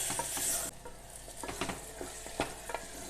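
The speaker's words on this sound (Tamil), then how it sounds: "இப்போ தக்காளியை போட்டுடலாம். தக்காளி நல்லா கொலன்னு வதங்கணும்." Tomatoes sautéing in a pan for tomato rice, with a soft steady sizzle and repeated scraping stirs of a spoon against the pan. A louder hiss opens the clip, then short stirring scrapes recur close by.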